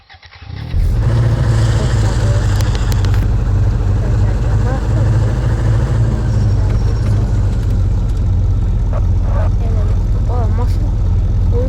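A car engine starts abruptly after a brief pause, then runs loud and close with some revving, on a long drive through the desert. Voices are audible over the steady engine.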